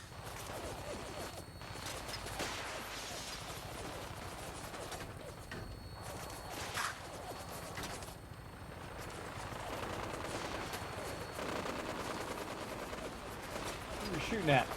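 Gunfire and a rocket launch in the video game Fallout 4, with bursts of shots and blasts over a dense, noisy battle soundscape, while a voice talks over the action at moderate loudness.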